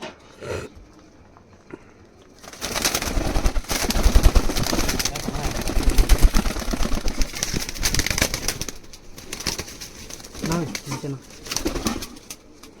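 Pigeons released at a loft burst into a long flurry of rapid, clattering wing flaps lasting several seconds, then settle into scattered flutters and soft coos while people talk nearby.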